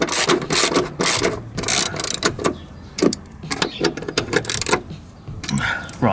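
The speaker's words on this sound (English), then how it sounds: "using hand tools, because I don't want to strip or damage these bolts or these threads in this chassis" Hand ratchets and wrenches tighten coilover bolts into the chassis of a 9N3 VW Polo GTI, making rapid, close clicking bursts with a few pauses and metallic knocks between them.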